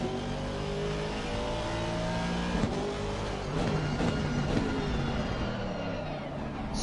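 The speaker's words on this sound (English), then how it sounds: "Nice and aggressive downshifts from Incy into Melbourne." A race car in Assetto Corsa Competizione, at Donington, carries a loud, continuous engine roar with shifting revs and rapid aggressive downshifts, dense and steady throughout without any talk.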